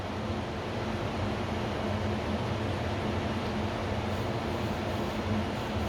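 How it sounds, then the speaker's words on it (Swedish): An Electrolux WP71-265WT cooker hood fan runs on its high setting with a steady, broadband whooshing rush and a low mechanical hum underneath, unchanging throughout. "Sätter jag den på hög fläkten."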